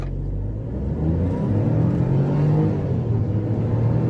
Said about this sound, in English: so let's do a 0 to 100